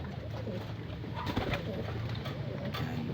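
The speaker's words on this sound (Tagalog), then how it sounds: "nagpakain na tayo ng ating mga ibon" Pigeons coo steadily over a dense, noisy backdrop, with soft overlapping calls and some fluttering.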